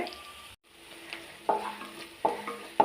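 Onions sautéing in a pan for semiya upma: a steady close sizzle broken by a few scraping stir strokes at regular intervals, with no voices.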